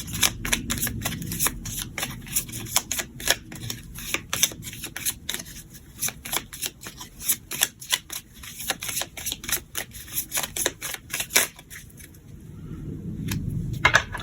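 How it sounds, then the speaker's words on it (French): Lenormand cards being cut and shuffled, a dense run of crisp riffling flutters and slaps that continues almost without pause for about twelve seconds, close and fairly loud, followed by a softer rustle as the deck settles. "On va faire une coupe et ensuite nous irons regarder avec 9 cartes."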